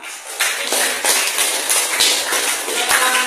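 A classroom audience applauds after a group presentation, a fairly close, uneven patter of hand claps that lasts throughout with no talking.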